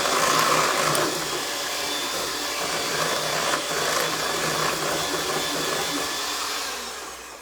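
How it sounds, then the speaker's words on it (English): An electric mixer whirring on high while stirring keto churro batter, a loud continuous motor whine holding steady for several seconds before easing slightly at the end, close and alone. "I'm going to just give this one quick stir on high."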